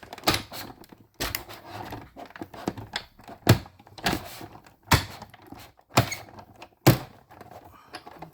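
A Big Shot die-cutting machine cranks a paper masterboard through its rollers, giving a series of loud, regular thunks and rattling clicks roughly every second, alone without talk.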